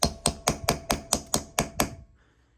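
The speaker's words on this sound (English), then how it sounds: "I'm going to try to chisel them out and hope I don't have to go the drilling route." Hammer strikes a chisel against a stubborn screw on a 1973 Yamaha CT3 engine case: nine sharp metallic taps at a steady, fairly quick rhythm, close up and alone, then a faint quiet tail.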